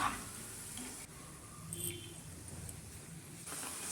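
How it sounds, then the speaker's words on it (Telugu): Bread pieces fry in hot oil in a kadai, giving a steady, moderately loud sizzle with faint stirring scrapes throughout. "కడాయిలో నూనె వేడైన తర్వాత బ్రెడ్ ముక్కలన్నీ వేసి మంచిగా వేగేలాగా మధ్య మధ్యలో కలుపుతూ ఉండాలండి"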